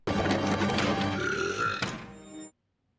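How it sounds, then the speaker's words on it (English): A loud, drawn-out burp from a plastic trash can in Doctor Who, a single guttural rumble lasting about two and a half seconds before cutting to silence, heard alone. "It burped."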